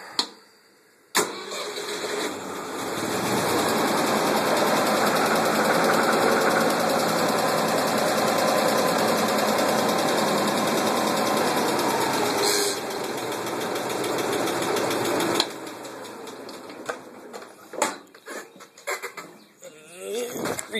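A Ford tractor with a freshly fitted battery after an oil change cranks and fires, then idles with a loud, steady chug for about fourteen seconds before cutting off, followed by scattered clatter.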